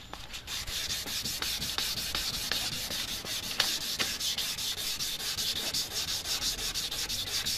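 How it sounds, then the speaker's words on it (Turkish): Steady wet sanding on a hard plastic surface, a continuous gritty rasp with regular back-and-forth strokes, close up and fairly loud, no talking. "su yardımıyla şu şekilde farımızı komple zımparalayacağız"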